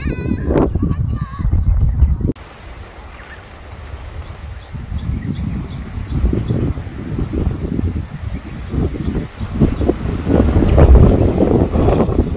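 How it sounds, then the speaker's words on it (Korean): Strong wind on a Jeju Island golf course, gusts buffeting the microphone in loud rumbling surges that rise and fall, with a brief sharp cut early on and the roar building toward the end. "제주도 바람 엄청나네."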